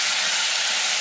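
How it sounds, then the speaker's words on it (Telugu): Tomato pieces hitting hot oil in a pan with garlic, tamarind, onion and chana dal, giving a loud, dense, continuous sizzle with no voices. "ఇప్పుడు టమాటా ముక్కలు వేసుకోవాలి."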